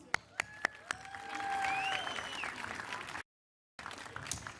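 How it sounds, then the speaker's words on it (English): A few sharp claps start things off, then a room of people at a high school graduation applauds for a couple of seconds, cuts to silence, and resumes faintly. "Another round of applause."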